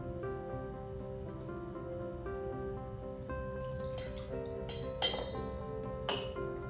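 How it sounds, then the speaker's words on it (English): Caramel vodka poured into a small shaker, with faint trickling and dripping that ends in a few soft clinks near the close. "we're gonna want the small one filled with your caramel vodka"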